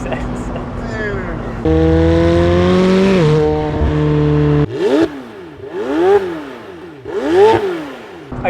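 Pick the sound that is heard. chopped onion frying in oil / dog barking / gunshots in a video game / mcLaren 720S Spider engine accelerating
mcLaren 720S Spider engine accelerating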